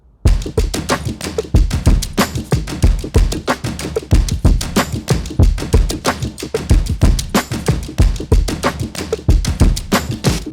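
A busy, punchy drum loop plays at a steady groove, loud and close, with dense rhythmic hits and no voices.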